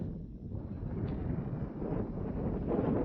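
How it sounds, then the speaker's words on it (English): Wind blows high above a canyon in Moab, buffeting the microphone in a continuous low rumble that swells and eases, close and fairly loud, with no talking. "Quite a bit of wind as well."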